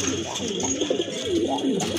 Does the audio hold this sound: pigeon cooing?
yes